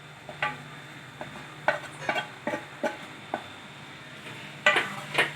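Mashed potatoes being stirred with lemon juice for batata vada: irregular clinks and scrapes of a spoon against a bowl, close and fairly crisp, with pauses between strokes and no voices.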